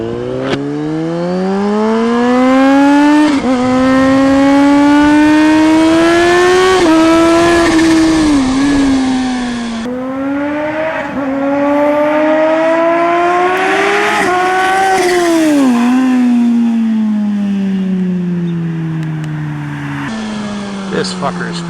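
A 2020 Kawasaki Z H2 supercharged streetfighter motorcycle is ridden hard and close, its engine note rising and falling through repeated gear changes in loud sweeping pulls, with speech faintly mixed in.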